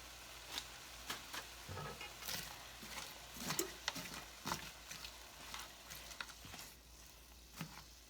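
Onion, partly a seasoning blend, cooking in a pan for butter chicken curry, giving a soft steady sizzle with scattered crackles and stirring scrapes, close and fairly quiet, no voices.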